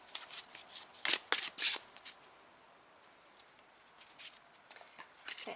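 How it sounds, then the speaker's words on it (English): Oracle cards are shuffled by hand in close, quiet bursts of crisp riffling and flicking, with a few sharp clustered flurries early and lighter intermittent shuffles afterward. "So I'm gonna shuffle another oracle card here."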